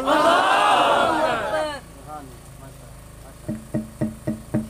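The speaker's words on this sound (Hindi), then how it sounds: "हजरत मौलाना यहया अब्बासी जिंदाबाद तकबीर" At a religious rally, a large crowd roars a loud unison shout in answer to a takbir call, fading after about two seconds, followed by a series of rhythmic clapping or chanting bursts.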